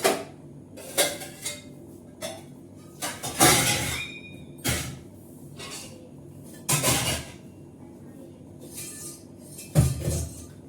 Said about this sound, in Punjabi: ਆਪਾਂ ਮਾਂਜ ਲਈਏ ਚਾਹ ਵਾਲੇ ਭਾਂਡੇ